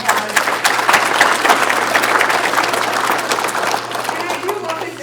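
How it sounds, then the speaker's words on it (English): An audience at a soil health and farming talk breaks into sustained applause, dense and loud clapping filling the room for several seconds over a low steady hum. "can you give RJ a big round of applause?"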